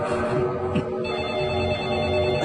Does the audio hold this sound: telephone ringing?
yes